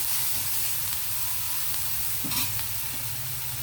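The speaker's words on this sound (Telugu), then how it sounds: "ఆ పచ్చి వాసన పోయే వరకు ఎగితే సరిపోతుంది" Masala frying in a pan before chicken is added makes a constant, even sizzle and hiss throughout. A brief scrape of stirring is heard partway through.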